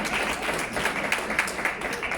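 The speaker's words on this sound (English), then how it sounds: "You can clap hands." Audience applause at a business seminar on building a lasting business, steady clapping from a crowd held at an even level throughout.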